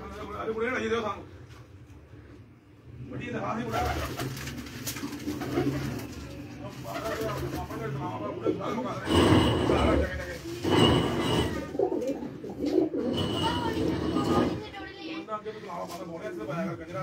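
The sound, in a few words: pigeons cooing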